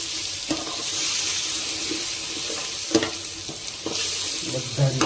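Ground spices—turmeric, chilli powder, coriander powder and asafoetida—frying in hot oil for an egg curry gravy, a steady close sizzle with soft stirring clinks and scrapes throughout, no talking.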